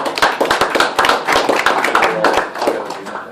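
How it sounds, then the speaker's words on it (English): A small audience claps after a talk, with distinct, fairly loud hand claps at an uneven rhythm, close by and continuing steadily before thinning slightly at the end. "A round of applause for"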